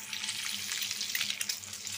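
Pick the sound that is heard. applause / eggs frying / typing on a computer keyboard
eggs frying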